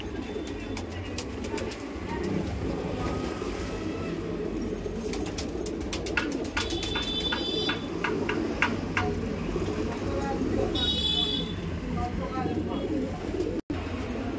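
A pair of Saharanpuri highflyer pigeons coo in low, continuous murmurs, close by, with faint chirps and background voices mixed in throughout.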